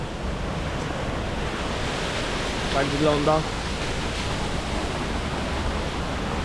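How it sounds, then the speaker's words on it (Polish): Waterfall in Pai, Thailand, a steady roaring wash of falling water filling the whole scene at constant loudness, with someone briefly speaking over it near the middle. "Jestem na wodospadzie."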